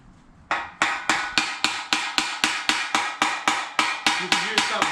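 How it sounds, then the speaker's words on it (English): A steady run of sharp metallic hammer blows from a body hammer during exhaust fabrication on a turbo 6.0 LS Mustang, about three per second, ringing loudly and evenly with no talking. "You could use something better than one of my body hammers to bang the thing out too."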